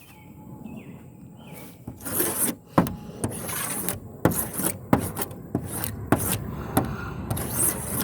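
Paint being scraped off the body of a bus under conversion to an RV, heard as a run of rough rasping strokes with sharp scraping bursts at an irregular rhythm, close and fairly loud, with no talking.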